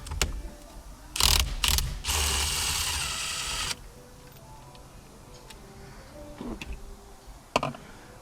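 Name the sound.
ratchet with 21mm socket undoing a bolt on a Hyundai Elantra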